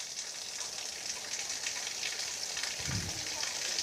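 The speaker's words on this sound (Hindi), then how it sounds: "इसी तरीके से उलट पुलट करते इनको पकाना है ताकि अंडों का कच्चापन ख़त्म हो जाए।" Eggs scrambled with onion, tomato, green chili and coriander sizzle steadily in a pan for a village-style breakfast, a continuous close frying hiss with a brief low thump near the end and no talking.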